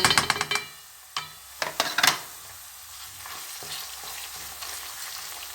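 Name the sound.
tomato paste frying with onions in a pan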